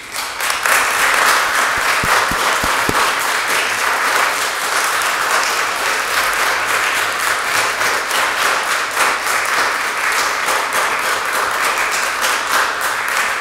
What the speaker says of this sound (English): Now I am going to cut the applause off